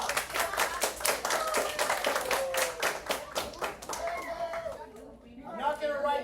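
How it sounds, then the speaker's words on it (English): A classroom audience gives a short round of rhythmic clapping, close and lively, fading into scattered claps as children's voices and talking rise over the end. "Give her a round of applause."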